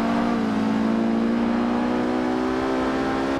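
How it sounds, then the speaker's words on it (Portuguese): A Ferrari engine drones at steady high revs in Forza Horizon 5, a loud sustained tone holding close and constant without a clear pass-by swell, with no voices. "Olha a Ferrari passando."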